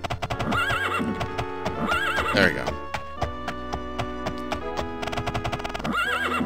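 Horse neighs and clip-clopping hooves from The Elder Scrolls II: Daggerfall, repeated whinnies over steady game music with a brief spoken remark.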